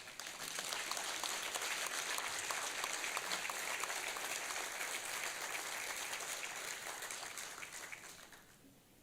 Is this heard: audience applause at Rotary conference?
yes